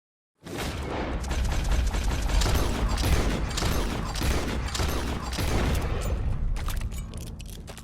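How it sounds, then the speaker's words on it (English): Loud, dense gunfire and booming blasts in Red Dead Redemption 2, a rapid volley of shots with mechanical clatter that fills the scene before tapering into a quieter tail. "He shot the thing"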